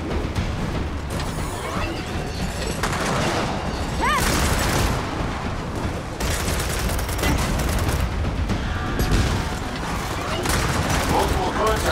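Gears of War 4 gunfire: loud, dense bursts of automatic shots and booms running continuously, with clanking mechanisms and a voice talking over the battle.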